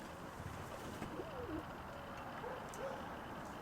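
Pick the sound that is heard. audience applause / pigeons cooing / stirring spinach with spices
pigeons cooing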